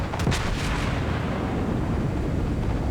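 Anti-aircraft guns firing aboard a warship in the World of Warships video game, a quick burst of sharp reports near the start that fades into a low, rumbling wash.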